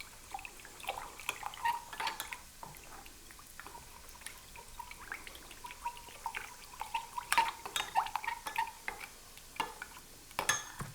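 Beef bouillon concentrate being stirred into liquid in a pot, with soft repeated clinks and liquid swishes of a spoon against the metal sides, steady and close throughout.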